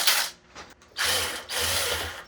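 An impact wrench removes the T25 screws holding the gas tank on a Ryobi gas weed whacker, giving three close, loud, rattling bursts with short pauses between them and no talking.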